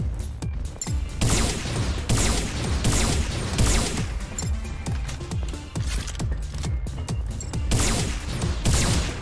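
Semi-automatic mecha weapon firing in the game M.A.S.S. Builder, a loud, dense run of repeated shots in quick succession with a few brief gaps, close and steady throughout.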